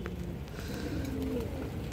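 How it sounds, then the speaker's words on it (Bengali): A pair of aluminium silver pigeons, male and female, gives soft low cooing close by, a steady murmuring coo with no voices over it. "এখানে একটা পেয়ার আছে অ্যালুমিনিয়াম সিলভার কবুতর দর্শক"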